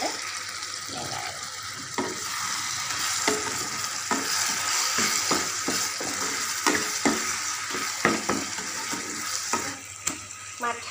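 Cumin and coriander powder are stirred in a frying pan with hot oil, giving a steady sizzle broken by irregular scraping and stirring clicks, close and moderately quiet, with no talking.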